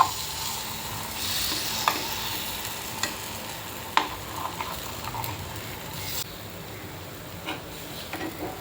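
Sweet rava appe fry in a greased appe pan, a low steady sizzle broken by scattered light taps and clicks as each one is turned in turn.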